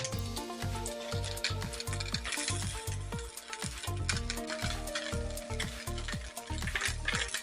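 Onions and steak slices frying in a pan over low to medium heat, a steady loud sizzle with dense crackle and pops running throughout, no voices.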